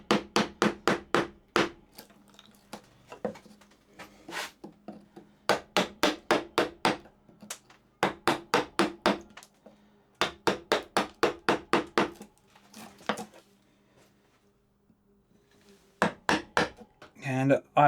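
Repeated mallet or hammer taps on a hardwood saw vise workpiece, struck in quick bursts of five to eight sharp knocks separated by short pauses, close and fairly loud with no talking.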